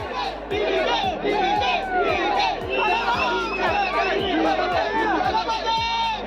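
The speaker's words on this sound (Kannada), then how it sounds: "ಅಭಿಮಾನಿಗಳತ್ತ ತೆರಳಿ ಕೈ ಮುಗಿದು ನಮಸ್ಕರಿಸಿದ ವಿಜಯ್ ಅವರಿಗೆ ಅಭಿಮಾನಿಗಳು ಜೈಕಾರ ಹಾಕಿದ್ರು" A large crowd of fans outside Kollur Mookambika temple cheers and chants for Vijay, loud rhythmic shouting and whistles rising over dense hubbub, with a steady repeated beat running underneath.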